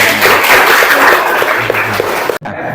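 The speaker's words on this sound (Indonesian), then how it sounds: "Tepuk tangan untuk Dewi." A class claps for a student called Dewi during a computer-network lesson in a computer lab, a close, dense burst of clapping that cuts off abruptly after about two and a half seconds.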